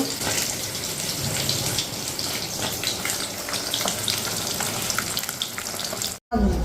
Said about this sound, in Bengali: যে আমার মাছ ভাজা হচ্ছে